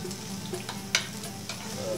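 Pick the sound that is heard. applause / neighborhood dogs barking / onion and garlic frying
onion and garlic frying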